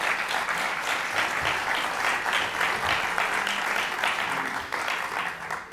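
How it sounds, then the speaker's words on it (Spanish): Audience applause at a film preview discussion event, steady and sustained clapping from a crowd filling the room throughout, moderately loud with no voices over it. "Entonces, un aplauso para Juana Macías."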